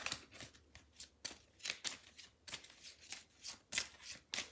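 Tarot cards being shuffled and laid out, a series of crisp riffling flicks and soft slaps repeating in an uneven rhythm, close and fairly quiet.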